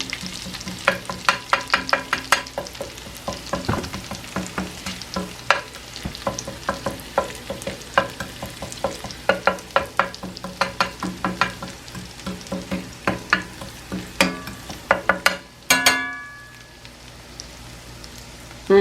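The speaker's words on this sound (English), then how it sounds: "So the butter is going to start to brown" Butter sizzles and starts to brown in a frying pan while being stirred, giving a close crackle of irregular pops and spits with a scraping stir now and then, and no voices.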